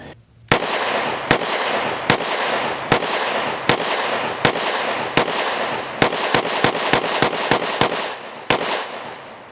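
A Smith & Wesson M&P 2.0 10mm pistol fires Fiocchi ammunition in a rapid string of about seventeen sharp, loud shots. Each report rings briefly, and the gaps shorten toward the middle of the string.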